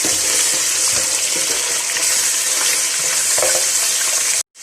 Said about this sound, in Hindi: अब इसके अंदर मटन शामिल कर देंगे। हाफ केजी मटन है मेरे पास। इसको हम थोड़ी देर भूनेंगे।